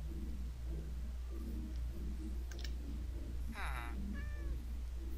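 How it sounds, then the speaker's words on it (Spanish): Cat in the Minecraft video game (version 1.14.1) giving a couple of short, clear meows near the end, over a low constant background hum with faint clicks. "¿Dónde está el gato?"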